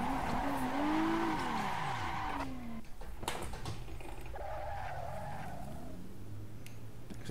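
Car tires spinning and squealing in the Assetto Corsa racing game, a sustained wavering screech over engine drone that fades after a few seconds and then returns more faintly.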